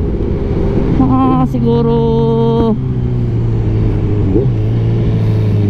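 A Kawasaki Z1000 motorcycle's exhaust holds a steady, close, loud engine drone with brief rev rises, while someone speaks over it.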